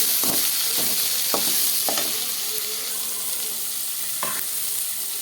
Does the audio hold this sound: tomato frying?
yes